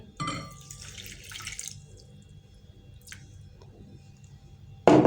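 A brief rush of water pours into a vessel, then trickles away into near-quiet, ending with a sudden loud knock.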